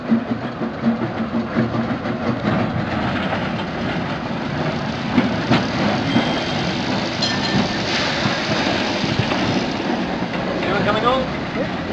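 A Baldwin steam tram, No. 100, rumbles along the rails with rhythmic clacking and metallic rattling, people talking faintly in the background.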